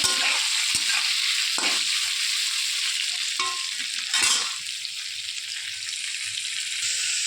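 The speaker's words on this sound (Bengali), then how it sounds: "এবার উল্টে পাল্টে পটলগুলোকে ভেজে নেবো লাল লাল করে" Pointed gourd (potol) pieces sizzling in oil as they are turned with a spatula: continuous close crackling broken by several scraping knocks against the pan, no voices.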